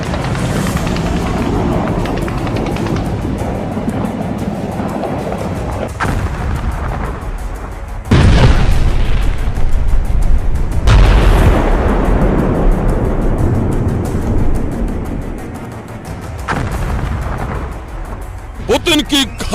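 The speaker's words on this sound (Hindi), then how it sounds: "आग बरसा रही है रूस की मिसाइल।" Heavy, continuous explosive rumble from Russian missile strikes in Ukraine, loud and sustained with deep booming surges and a sharper blast midway, no clear speech over it.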